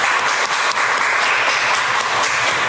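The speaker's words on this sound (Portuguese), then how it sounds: "Vamos aplaudir Jesus bem bonito." A church congregation applauds in a dense, sustained burst of many hands, loud and steady from start to finish with no talk over it.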